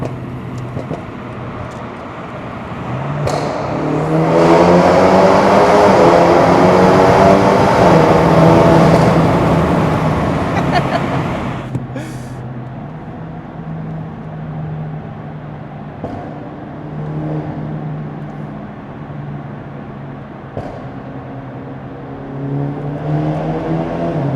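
A Stage 3 tuned BMW G20 330e producing 485 hp drives through a tunnel, its engine swelling into a loud, booming, reverberant roar before dropping back to a quieter cruising drone.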